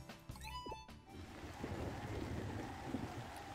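Steady rain falls in Harvest Moon: Light of Hope, a dense, even wash of rainfall that swells after a second of brief tonal game sounds and then holds constant, with no talking.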